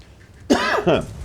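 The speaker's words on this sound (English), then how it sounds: "it wouldn't be a voiceover by me if there wasn't a cough early in the morning" Two quick, throaty coughs in close succession, near and fairly loud, against a faint background hiss.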